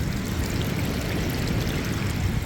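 Flood water rushing along a footpath during a storm with 70-90 mph gusts, a steady, loud broadband wash with heavy low rumble and no clear pauses, close to the microphone.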